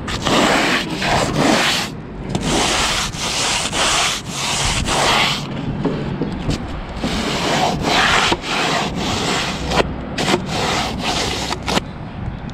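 A plastering float scrubs fresh render flat on a wall reveal. Loud, close, gritty rasping strokes repeat in an uneven rhythm with brief pauses, heard alone.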